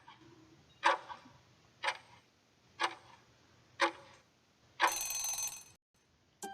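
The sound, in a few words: quiz timer ticking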